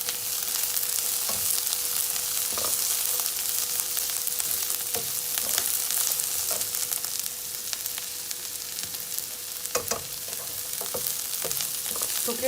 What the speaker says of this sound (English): Cook it on low flame because you don't want to burn the onions.